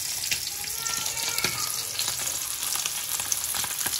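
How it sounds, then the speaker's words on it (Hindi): Fish shami kebabs fry in a pan with a steady, close, even sizzle that holds throughout, with faint clinks and stirring and no talk. "साथ में मैंने ये फिश के जो है शामी कबाब बने हुए हैं वो मैं फ्राई कर रही हूँ"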